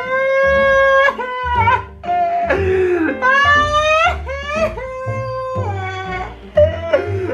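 A dog whimpers and cries loudly in long, wavering, high-pitched whines that rise and fall in repeated bursts, close and insistent, with a person's reaction in the background.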